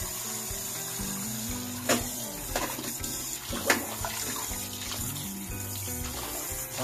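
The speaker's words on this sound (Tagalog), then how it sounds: "Hugasan na natin para mabilis lumamig." Running tap water pours steadily over cooked ox tripe in a sink, with a continuous close splashing stream and occasional louder splashes and knocks as the tripe is handled.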